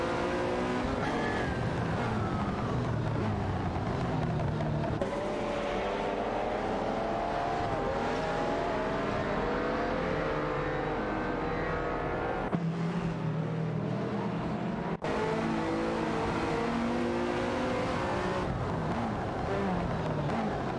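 A Lamborghini Diablo SV and a Porsche 959 race in an AI-driven video game, their engines roaring loudly and continuously with shifting pitch and occasional tire squeal, with no voices.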